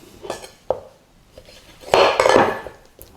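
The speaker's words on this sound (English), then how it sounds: "with the heavier back of the knife, give it a sharp tap" The heavy back of a knife taps down through a chicken leg bone on a board, giving a few sharp knocks followed by a louder crunching crack near the end.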